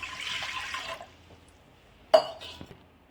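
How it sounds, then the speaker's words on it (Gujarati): Water poured into a pressure cooker to boil urad dal for a Kathiyawadi dal, a steady rushing pour for about a second, followed later by a sharp metallic clink and a fainter knock. "દાળ બાફવા માટે સૌથી પહેલાં પાણી લઈ લઈશું।"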